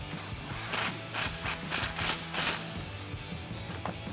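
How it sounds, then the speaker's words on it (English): An 18mm swivel socket on a ratchet tightens a bolt during a Jeep Gladiator JT Teraflex coil spring suspension lift. It gives several quick bursts of rapid clicking, close and clear, separated by short pauses, with no talking. "Now you can grab an 18mm swivel socket and we can tighten this down."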